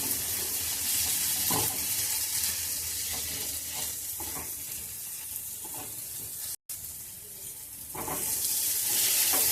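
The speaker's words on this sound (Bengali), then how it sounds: "আলুগুলো মশলার সাথে একটু ভালো করে কষে নিচ্ছি।" Fried potatoes sautéed with spices in a pan make a continuous close sizzle under repeated stirring scrapes, with a brief break partway through before the frying carries on loudly.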